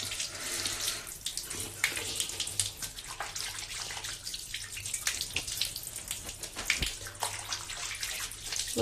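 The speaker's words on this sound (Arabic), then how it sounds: "هاتي غادي نغسل وجهي" Tap water runs steadily and fairly close for the whole stretch, a broad splashing wash as someone washes their face at a sink, with brief uneven spatters and no talk.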